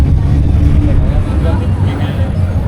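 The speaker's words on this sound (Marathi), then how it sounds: "बस निघाली आता मुंबईला जायला" A bus bound for Mumbai rolls out, its engine a loud, steady low rumble filling the whole stretch, with a voice murmuring faintly in the background.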